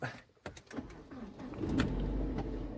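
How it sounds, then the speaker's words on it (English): A car engine cranks and catches, settling into a steady low idle rumble after a few soft clicks and bumps inside the vehicle. "If I do start the car though,"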